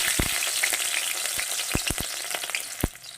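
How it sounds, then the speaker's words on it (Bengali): Chopped garlic drops into hot oil left from frying lentil dumplings, giving a continuous sizzle broken by sharp, scattered pops and crackles close by, with no voices. "এদিকে ওই বড়ি ভাজা তেলে আমি ফোড়নে দিয়ে দেব রসুন কুচি"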